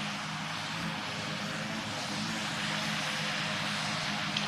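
A steady, unbroken engine drone from an airplane holding a level altitude in the Roblox flight game PTFS, heard continuously and fairly loud with no pauses.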